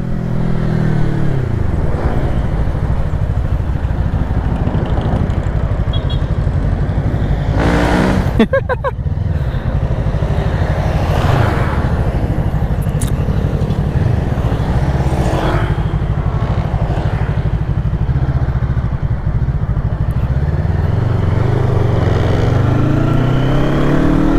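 An FKM Falcon X400CC motorcycle churns through mud, its engine revving hard and continuously up close, with surges and a few sharp spikes, and excited voices cut in now and then.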